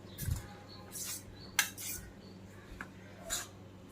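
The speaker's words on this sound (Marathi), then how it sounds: "आता आपण व्यवस्थित मिक्स करूयात" Prawns are mixed with spices in a bowl, giving a few soft, quiet clinks and scrapes of a utensil at irregular intervals.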